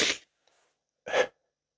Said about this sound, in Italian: Forse arriva uno starnuto.